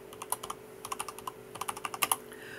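Keys clack on a computer keyboard as a letter is typed in a word processor: irregular bursts of sharp clicks, close and crisp, with a couple of louder strokes near the end and no talking.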